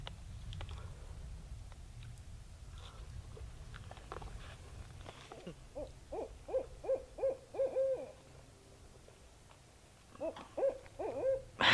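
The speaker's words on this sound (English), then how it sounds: "That owl is right around here somewhere." An owl hoots near a winter campsite during a storm: short, evenly spaced calls come in a run of five, then a second burst a few seconds later, fairly close and clear over a low steady wind rumble.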